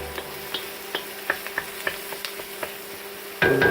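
Onions frying in a wok, a steady soft sizzle punctuated by regular clicks and taps of stirring, then a louder burst of sizzling at the very end.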